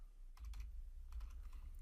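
Typing on a computer keyboard while coding, a few quick bursts of soft key clicks, close and fairly quiet.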